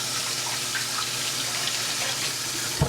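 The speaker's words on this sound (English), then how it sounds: "You rinse the juicy juice off." Water runs steadily from a kitchen sink tap while fingers are rinsed under it, a close, even hissing stream with a small splash near the end.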